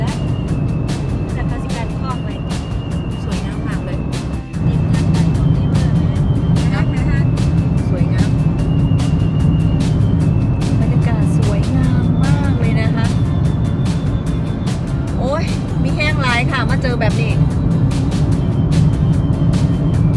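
A car drives along a mountain road toward a forest, its engine and road noise a steady close drone throughout, with someone talking over it.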